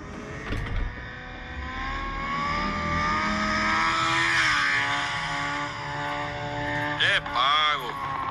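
Nissan 300ZX Twin Turbo engine droning at steady revs with rising and falling harmonic tones, fairly loud, then a brief sharper rev near the end.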